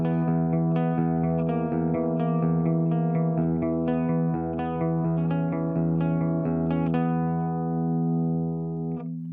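An electric guitar plays clean through the first amp model of a Tank-G multi-effects processor. Sustained chords and picked notes ring close and loud with no talking, then fade at the end.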